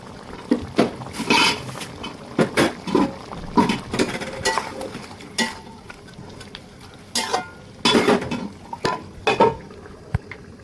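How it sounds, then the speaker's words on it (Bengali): Beef being stirred and fried in a pot for bhuna, large pieces scraped around with a spoon in repeated bursts of clatter over a steady sizzle, close and fairly loud, with no talking. "আমি মাংসটাকে ভালোভাবে কষিয়ে নেব"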